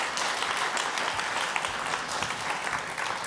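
Steady audience applause at a tech summit session, a dense, even patter of many hands clapping that continues throughout, with no voices on top.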